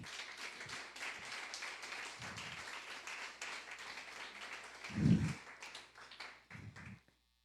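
Applause from a church congregation, a steady wash of clapping running for several seconds with low thumps scattered through it, fairly faint overall, ending abruptly near the close.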